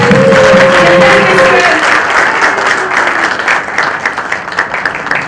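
A hall audience at a book launch ceremony breaks into loud, dense applause that gradually thins and fades over about five seconds, with a brief voice at the start.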